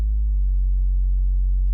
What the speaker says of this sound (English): And a sub bass.